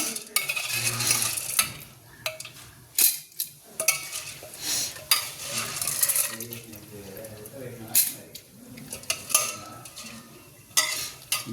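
Jowar (sorghum) idli batter with chillies and carrot being mixed by hand in a kitchen vessel, with irregular scraping, clinking and wet stirring sounds close up, some louder knocks scattered through, and no talk over it.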